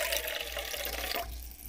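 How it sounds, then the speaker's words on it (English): Water pours steadily from a tap into an empty enchilada sauce can in a home kitchen, a soft continuous splashing fill that shifts slightly in tone near the end. "cans of like tomato sauce or enchilada sauce, is pour some water in it"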